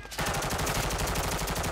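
Rapid automatic gunfire in a video game, a dense continuous burst of shots fired at the player, loud and sustained throughout with no talking.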